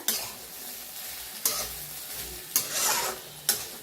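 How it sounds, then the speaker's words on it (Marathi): Cluster beans (guar) roasting in a pan, a steady low sizzle broken by four sharp scraping stirs spaced about a second apart, close and fairly quiet, with no one talking. "असं छान भाजून घ्यायची बघा गवारी"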